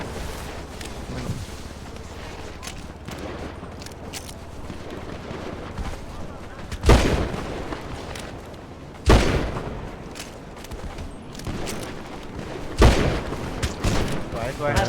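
Gunfire rings out in a Free Dom Town video game shootout, with scattered shots and several loud sharp bursts standing out over steady background noise and game sound.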